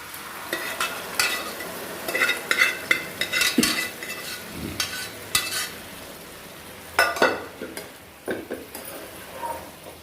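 Cooked chicken poured from a pressure cooker into frying masala for a Tirunelveli-style chicken gravy, heard as close sizzling and stirring with metal utensil scrapes and clatters against the pan, no talk.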